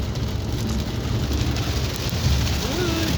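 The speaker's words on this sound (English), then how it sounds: "That's raining again." Steady rain falls on the Fourth of July, a continuous dense hiss of drops on surfaces with a faint low rumble underneath, no clear speech over it.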